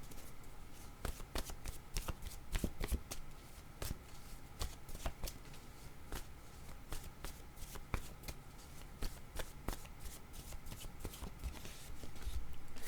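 A deck of cards shuffled for a card reading, quick repeated riffling and flicks in an irregular rhythm, close and fairly quiet, with no talking.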